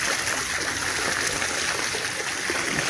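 Spring water from a mountain spring in Khanspur, Pakistan, flowing in a steady, close, full-bodied rush with a bright splashing hiss, continuous and uninterrupted with no talking.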